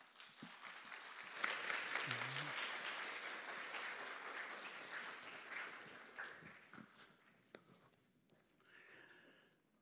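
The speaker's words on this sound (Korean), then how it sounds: "감사와 환영의 박수로 이 자리에" A church congregation claps to welcome a missionary to the front, the applause swelling early and then gradually fading, with a few murmurs and a voice near the end.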